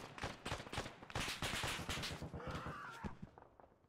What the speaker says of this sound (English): that was the artillery gun